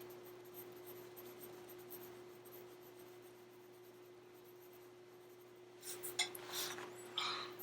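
Charcoal drawn lightly across dark fabric, faint soft scratchy strokes over a low steady hum, growing into a few firmer rubbing strokes near the end.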